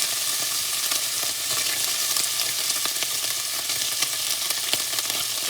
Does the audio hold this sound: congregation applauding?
no